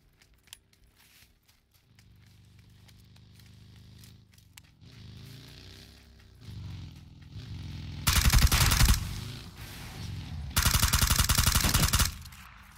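Loud Kar98K bolt-action rifle shots in the battle royale game PUBG, coming in two intense broadband bursts after a quieter stretch of movement and ambient game noise.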